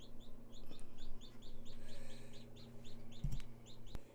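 Baby chicks peep in quick, repeated high chirps over a low steady hum, with a couple of soft knocks nearby and no talking.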